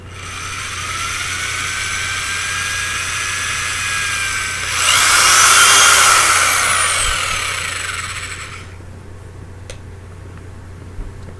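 A power drill bores holes in PVC pipe, its steady whine building to a louder, higher burst midway, then cutting off abruptly, leaving quiet workshop hum.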